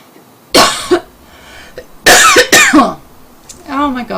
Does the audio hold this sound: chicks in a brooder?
no